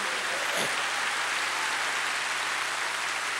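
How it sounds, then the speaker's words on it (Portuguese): A church congregation applauds, a dense, steady wash of clapping from many hands that holds evenly throughout, with no voices over it. "Pode dar um aplauso ao Senhor?"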